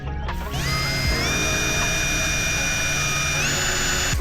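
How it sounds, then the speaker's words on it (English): A power driver spinning screws in during a van build, a loud close whine that ramps up in pitch and holds, with ratcheting mechanical chatter at start and finish. "put the screws in."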